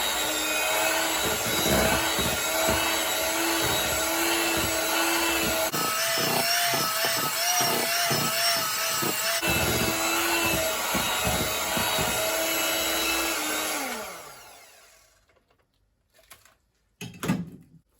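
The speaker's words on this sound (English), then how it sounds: "So that's 4 eggs in here. I'm going to just mix that in." Four eggs being mixed into Jamaican Christmas rum cake batter: a loud, steady mechanical whir runs for about fourteen seconds, then fades out, followed by a few faint knocks.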